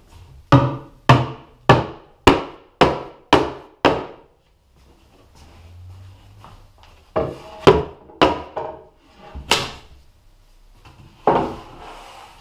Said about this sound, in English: so yeah, I'm gonna have to use a hammer.